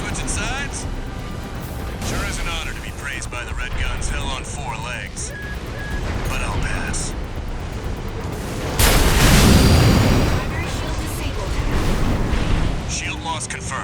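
Heavy cannon shells fire in the mech battle game Armored Core 6, with booming blasts and a large roaring explosion midway amid a dense battle din, while voices talk over the combat.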